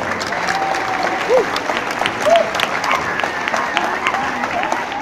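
Audience applause for a rock band at a parish event, dense steady clapping with a few whistles and cheers mixed in, fairly loud throughout.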